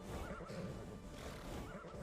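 Horse neighing and whinnying near a stable in the Skyrim LoreRim game, a loud close whinny repeated over a busy bed of in-game ambience with faint hoof clip-clop.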